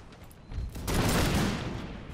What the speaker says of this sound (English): The Jaegers are doing quite a nice job of firing by volley.